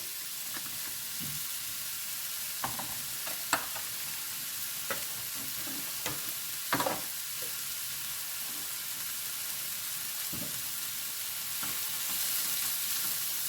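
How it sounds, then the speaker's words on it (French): A quiche filling sautés in a frying pan, a steady soft sizzle with scattered clicks and scrapes of stirring, close and fairly quiet, with no talking. "Donc, je vais faire revenir tout ça."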